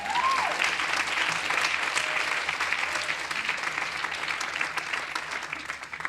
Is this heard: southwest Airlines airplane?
no